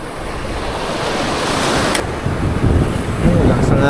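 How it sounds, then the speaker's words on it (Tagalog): Strong wind buffeting the microphone on a shoreline fishing spot, a loud steady roar with surf-like wash and gusts swelling toward the end. "Lakas ng hangin."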